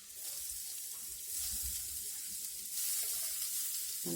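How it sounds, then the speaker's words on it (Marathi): Chopped onion dropped into hot oil already holding garlic, ginger and green chili, for an eggplant bharit: a steady, loud, close sizzle that swells partway through, with a faint clink near the end. "आता हा चिरलेला कांदा टाकायचा त्याच्यात"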